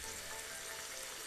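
Egg foo young ingredients fry in a pan with freshly grated ginger, a steady close sizzle filling the whole short moment without pause.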